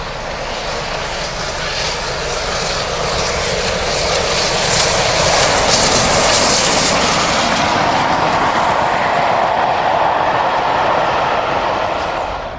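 Steam locomotive Tornado labouring up the gradient toward Stoke Tunnel, a loud, continuous roar of exhaust and rolling train that swells slightly and holds steady throughout, with no voices.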